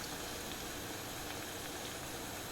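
Medu vada batter fries in hot oil, making a steady, dense sizzle that holds at an even level from start to finish with no speech.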